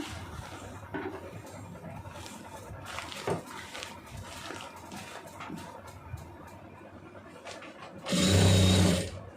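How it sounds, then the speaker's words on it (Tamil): A sewing machine stitches lining cloth on a churidar, first as a low, uneven clatter and hum, then as a sudden loud, steady whirring run at the end, close by. "அப்படியே ஒரே மாதிரி லைனிங் கிளாத்தை இழுத்து விட்டுட்டு ஒரே மாதிரி தையல் போட்டுருங்க"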